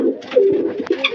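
Pigeons coo in a loft in one brief, close, soft murmuring call with a throaty warble, heard alone.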